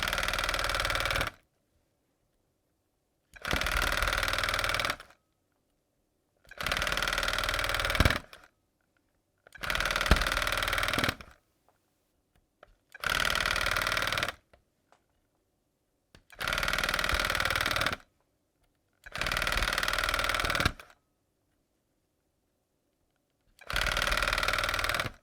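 A rug tufting gun punching yarn through stretched fabric, a loud buzzing motor run in regular bursts of a couple of seconds, separated by silent pauses, with no talking.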